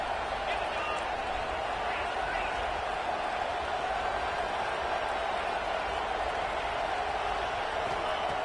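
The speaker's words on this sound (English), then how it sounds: "And here comes the noise. This crowd is trying to inspire this defense to make a big red zone stop." A steady roar of stadium crowd noise from the Madden 26 football video game fills the scene evenly, with commentary voices speaking over it.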